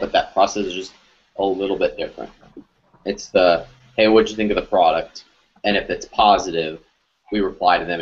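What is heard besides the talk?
No everyday noise stands out behind the speech.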